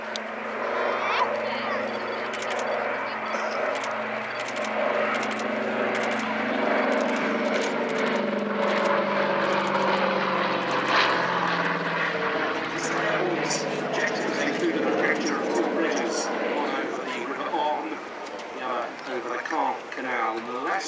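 A BBMF Douglas Dakota propeller aircraft flies at the RAF Waddington Air Show, its piston engines giving a loud, steady drone that lasts the whole stretch while a commentator talks over it.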